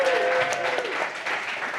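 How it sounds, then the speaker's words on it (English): An audience claps at a Central Oregon PubTalk company pitch event, a brief burst of steady applause with a voice briefly over it at the start. "another round of applause for"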